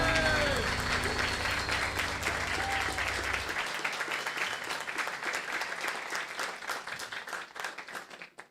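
Congregation applause inside a church during an ordination service, dense sustained clapping that carries on throughout, loud at first and slowly thinning and fading toward the end.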